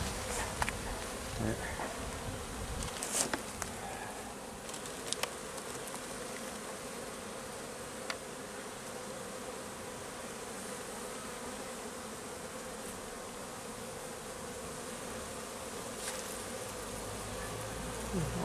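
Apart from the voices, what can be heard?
honeybees buzzing in a hive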